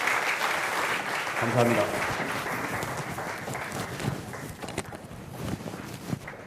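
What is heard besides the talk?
forum audience applauding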